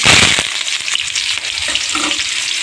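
Onions, curry leaves and chana dal sauté in hot oil in a pan, giving a loud, steady sizzle with scraping stirs throughout and no voices.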